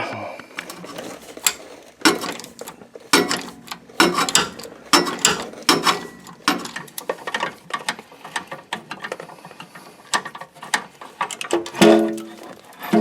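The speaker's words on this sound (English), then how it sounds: "I'm just going to use a 1/2 inch ratchet and a long extension to get down through these oil lines and whatnot" A 1/2 inch ratchet on a long extension works loose the starter mounting bolts of a Chevy K1500 Silverado, giving bursts of rapid clicking separated by brief pauses, close and fairly loud with no talking.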